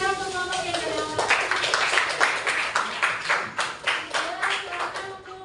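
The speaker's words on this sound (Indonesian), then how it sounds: "tepuk tangan yang meriah" A group claps together in a burst of applause for a presenting group during an Indonesian teacher-training class session, with rhythmic hand claps over voices calling out.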